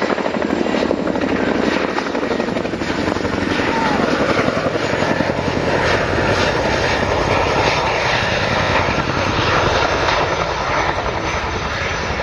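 A military aircraft's engines drone steadily and loudly at an air show while the aircraft repositions, forming one unbroken wall of sound that lasts the whole time.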